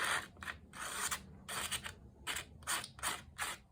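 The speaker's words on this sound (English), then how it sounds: "I'm going to use my scissors and just kind of go along here" Scissor blades scrape along the edge of a sheet of paper to age it, close and quiet, in a series of short rasping strokes coming in uneven bursts with brief pauses between them.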